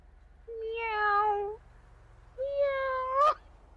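A person's voice imitates a cat meowing, two drawn-out meows about a second each with a short pause between, fairly close and clear with no other talk over them.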